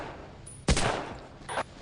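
Cannons fire in the video game Battlefield 1942: two sharp booming blasts about a second apart over steady noisy game ambience, the first louder.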